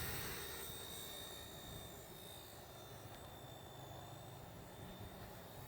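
An XK K124 RC model of an EC145 helicopter flies outdoors in light wind, giving a steady whirring rotor and motor hum with a thin high whine that holds level throughout and stays alone.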